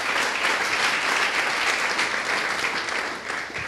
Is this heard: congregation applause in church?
yes